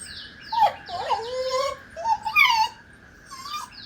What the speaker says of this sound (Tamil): நாய் நாய்